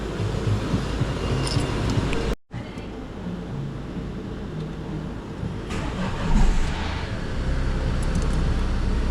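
After major repair work, a car engine starts up and settles into a steady idle, with a brief drop to near silence early on and a low, continuous rumble afterward.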